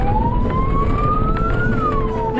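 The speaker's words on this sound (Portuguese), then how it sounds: "os motoristas ligam sirenes para alertar possíveis pedestres sobre a presença dos veículos." A vehicle siren wails on an unpaved, unlit rural road, one steady tone sliding slowly up and then falling back over a constant engine and road rumble.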